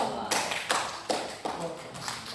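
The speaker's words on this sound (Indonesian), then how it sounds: "tepuk tangan dong." A school class at MAN Kota Blitar clapping hands together in a few short, sharp bursts, about four or five rhythmic group claps close by, with light room noise between them.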